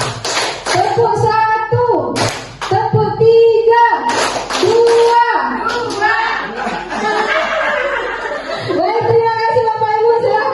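Schoolchildren in an Indonesian classroom clap a counted rhythm pattern in short bursts, sharp broadband claps with a teacher's voice and children's speech and laughter around them.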